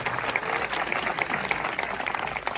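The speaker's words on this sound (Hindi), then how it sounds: "एक बार प्रद्युम्न शर्मा के लिए भी जोरदार तालियां बजाइए।" An audience at a Hindi poetry gathering (kavi sammelan) claps loudly and steadily, a dense wash of many hands filling the hall without a break.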